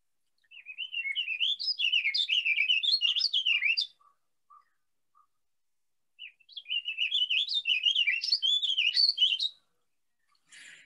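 Songbird singing, two long phrases of rapid warbling, whistled notes, each about three seconds, separated by a quiet pause with a few faint isolated chirps, clear and close against silence.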